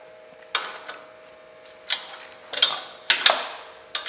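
A ratchet wrench tightens bolts while a trick step is fitted to a 2003-2011 Ranger boat: short bursts of quick metallic clicks, close and irregular, separated by brief pauses.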